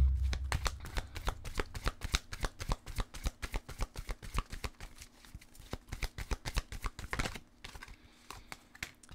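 Tarot cards are shuffled in rapid, crisp riffling bursts, close and steady, with a brief pause near the end before the shuffling resumes.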